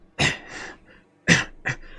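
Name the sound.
coughing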